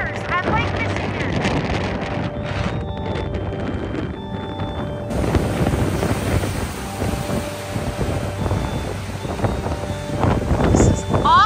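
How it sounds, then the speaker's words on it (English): Large waves of eight to ten feet churning on Lake Michigan in heavy wind, a continuous roaring rush of water and gusting wind buffeting the microphone, loud and unbroken throughout. "Look at these waves. They're 8 and 10 footers on Lake Michigan."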